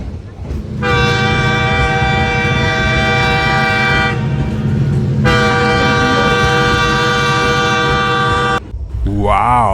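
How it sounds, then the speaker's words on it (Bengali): The Kanchanjunga Express pulls into Kumarghat station, sounding loud, sustained horn blasts: one long blare, a short break, then a second long one. The rumble of the train and the platform carries underneath throughout, with a brief drop near the end. "আসছে আমাদের ট্রেন কাঞ্চনজঙ্ঘা"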